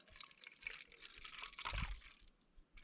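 A foam cannon loaded with distilled water sprays onto a vehicle during a routine detail, producing a soft, continuous hissing wash with a brief surge in the middle, quiet and with no voices.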